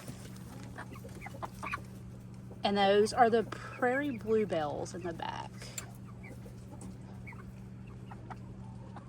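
Light Brahma chickens cluck and squawk in a short burst in the middle of a quiet outdoor coop scene, close by, while a person talks over a steady low hum.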